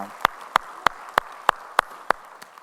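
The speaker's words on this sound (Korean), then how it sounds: "우리의 찬양받으 주님께 영광의 박수 올리겠습니다" Seven sharp, evenly spaced claps ring out in a steady rhythm during a church worship service, each one crisp and distinct against a quiet background.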